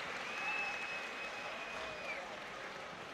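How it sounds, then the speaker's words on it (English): Crowd applause for the fighters at a YOKKAO Muay Thai event, a broad wash of clapping that holds steady throughout, with a thin whistle-like tone riding above it. "a massive round of applause for both fighters"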